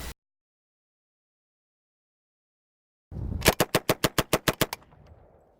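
Automatic rifle firing a single burst of about nine evenly spaced, sharp, loud shots at a steady chugging rate, preceded by a brief click and a long silence.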